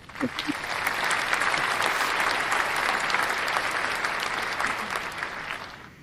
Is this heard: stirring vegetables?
no